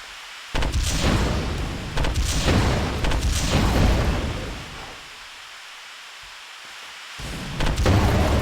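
Rocket launcher blasts from the FPS Creator game Space Warrior, several loud, booming explosions in quick succession with rumbling decay, a quieter lull, then another heavy blast at the end.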